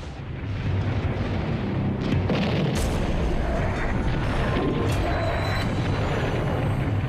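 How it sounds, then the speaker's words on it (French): German artillery bombardment during wartime, heard as a continuous heavy roar of distant explosions and booming blasts that swells and persists, with a few sharper bursts rising out of the dense rumble. "les Allemands nous ont bombardés"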